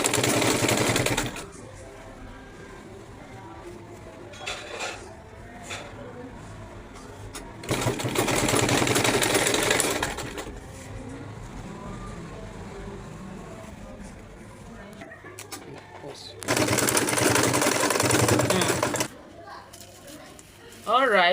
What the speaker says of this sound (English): Then you take it to your sewing machine, you sew from one end to the other.